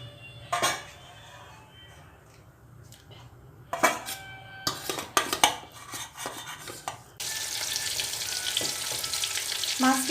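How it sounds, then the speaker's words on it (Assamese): Pieces of fish rubbed with salt and turmeric go into a pan, with scattered clatters of utensils and cookware before a loud, steady hiss of frying takes over in the final seconds. "এতিয়া মই অলপ সময় মাছ কেইপিচ ভাজি ল'ম"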